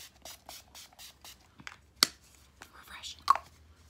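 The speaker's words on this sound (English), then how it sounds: "I'll use the Urban Decay All Nighter setting spray." Several short, hissing spritzes of Urban Decay All Nighter setting spray in quick succession, close up, with a couple of sharper bursts near the end.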